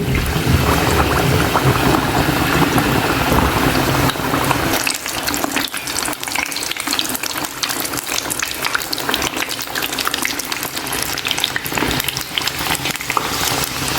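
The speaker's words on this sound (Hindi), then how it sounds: "इसे मैं लो फ्लेम पर फ्राई कर रही हूँ।" Kachori frying in a pan of oil over a low flame, giving a steady, dense bubbling hiss that continues unbroken and fairly loud from start to finish with no voices.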